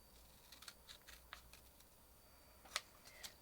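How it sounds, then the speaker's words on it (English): Quiet, close snips of scissors cutting paper along a pencil line for circle ornaments, a series of separate crisp clicks at irregular intervals, one louder snip near the end, no talking. "once you've marked it with the scissors, you're going to cut on the pencil line"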